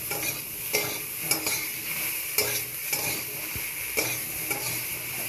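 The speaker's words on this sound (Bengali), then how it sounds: "নেড়ে চেড়ে ভেজে নেব। দিয়ে দিচ্ছি এই ধনে জিরে গুঁড়ো।" Coriander and cumin powder being stir-fried in a pan, a steady oily sizzle broken by repeated scraping strokes of a spatula against the metal, close and fairly loud, with no voices.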